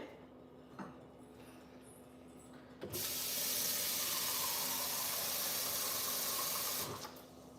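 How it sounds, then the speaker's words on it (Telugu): Hot water in a pot, heating for pongal, first gives a quiet low bubbling. About three seconds in, a loud, close rushing hiss of water takes over and lasts several seconds before settling back down. "వేడి నీళ్ళు పెట్టుకున్నాను అనమాట మరుగుతున్నాయి ఆల్రెడీ"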